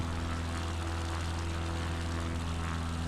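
A propeller plane climbs with flaps extended in Flight Simulator 2020, its engine a constant droning hum with steady low harmonics filling the whole stretch, no talking.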